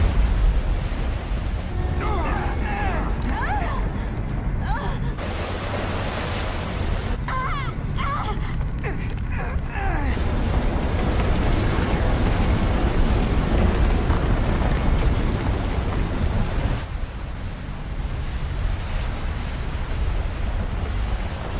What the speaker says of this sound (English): it's a blue flame explosion